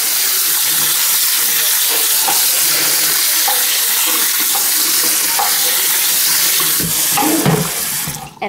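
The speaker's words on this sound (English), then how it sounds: "so I'm just going to put the water on." Tap water runs steadily from a faucet into a sink while canned beans are rinsed in a colander, a loud continuous splashing with a few clunks and shifts near the end.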